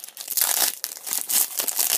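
A Match Attax 2016/17 football card pack being cut open with scissors, a close crinkly plastic rustle with sharp tearing bursts for about two seconds, with no talking.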